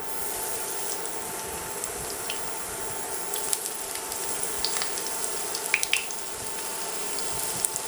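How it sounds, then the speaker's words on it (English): Steady broadband sizzling of eggplant wedges frying in hot oil, with scattered crackles and pops, continuous and fairly close, no voices. "You want to hear that nice little sizzle."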